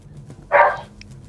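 A pit bull barks once in the background, a short, fairly loud bark rising above a quiet room during an evening carnival-season interview in Woodbrook.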